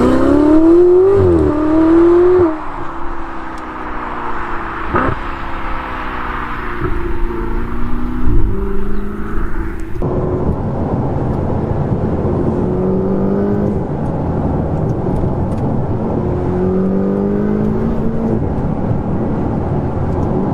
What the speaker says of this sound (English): You can hear the turbos like, I love that.